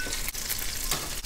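Meat fries in hot oil in a pan, a loud close sizzle and crackle that dips briefly in a few spots, with no talking.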